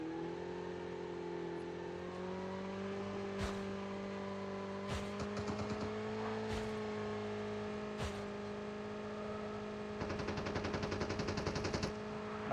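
In Call of Duty: Mobile, single sharp LK24 shots crack out every second or two over a steady droning engine hum, then a rapid sustained automatic burst rattles near the end.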